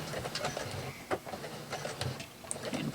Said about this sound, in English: I want to go backwards and do some stay stitching